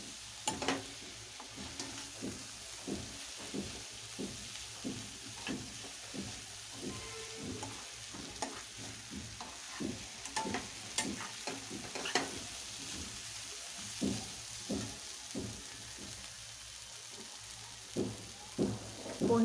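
Kande pohe, flattened rice with onion, is stirred in a pan over medium heat, a soft continuous sizzle broken by a regular rhythm of scraping spoon strokes against the pan, fairly quiet and close, with no voices.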